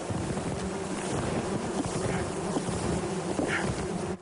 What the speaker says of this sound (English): Bird's box is buzzing with a few thousand bees